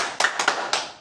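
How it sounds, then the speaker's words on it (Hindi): Children clapping in a primary school classroom during an educational word game: a few short, crisp bursts of applause in quick succession, close by, fading out at the end. "भाई तालियां बजाओ इनके लिए"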